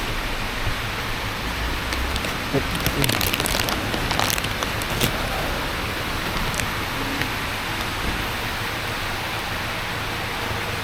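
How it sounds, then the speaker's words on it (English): Heavy rain pours down steadily, a dense hiss close by with scattered crackling drops and brief rustles, continuous throughout. "So here comes the rain again, look."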